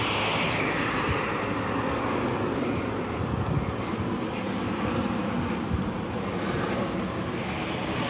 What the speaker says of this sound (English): And you have these airplanes going to the Cordoba, going to Mactan Airport.